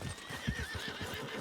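A horse in the Red Dead Redemption 2 video game whinnies while its hooves pound in a quick galloping clatter, moderately close but fairly faint.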